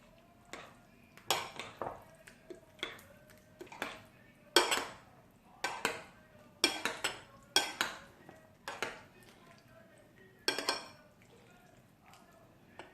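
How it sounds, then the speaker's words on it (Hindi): Dahi bara ingredients are mixed in a bowl with a spoon, making a quiet series of irregular clinks and scrapes of metal on dish, with pauses between strokes. "मैं इन तमाम चीज़ों को अच्छे से मिक्स कर दूंगी"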